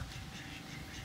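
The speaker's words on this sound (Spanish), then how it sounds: "Se llaman patos esmeralda." Emerald ducks quack briefly near a home swimming pool, a quick, moderately loud call over a steady background hiss.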